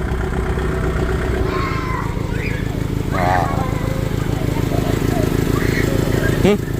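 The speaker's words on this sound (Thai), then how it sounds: "เสียงเสียงท่อรถไถเชียงมอน" A forklift engine that sounds like a farm tractor drones loudly through its exhaust in a steady, even rumble, while people talk over it.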